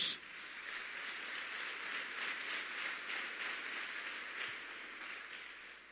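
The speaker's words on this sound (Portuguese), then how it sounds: "Aplauda a palavra de Deus" A church congregation breaks into sustained applause during a Sunday service, a dense, even wash of many hands clapping at moderate loudness for several seconds, with no voices rising above it.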